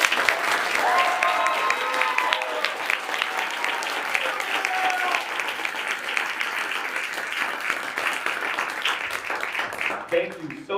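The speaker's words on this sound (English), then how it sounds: "One more big round of applause for Will, everybody." Audience applause after a graduation-style speech, a long, dense burst of clapping with some cheering that holds steady for about ten seconds, a voice briefly audible over it before it ends.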